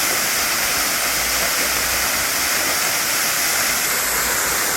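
Cascade d'Entraigues waterfall in Auvergne, France: a steady, loud, unbroken roar of falling water close by, dense and hissing with no gaps, heard alone without voices.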